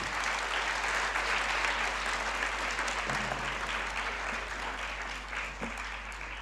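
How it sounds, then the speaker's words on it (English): An audience at an award ceremony applauds a speaker named Jaya with continuous, evenly dense clapping that lasts about six seconds and eases slightly toward the end, with no one speaking over it. "So huge round of applause for Jaya."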